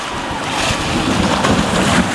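Lake Michigan waves crash and splash against the rocky limestone shore at Cave Point, a steady loud wash of surf with wind buffeting the microphone throughout.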